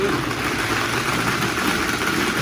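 A blender running at slow speed while mixing a green tea drink gives a steady, loud motor whir with a low rumbling hum, unbroken throughout.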